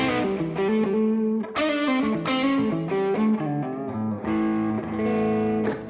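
Electric guitar played through a PRS MT15 amp set between crunch and distortion, loud chords and riffs with sustained ringing notes and short pauses, alone without talk.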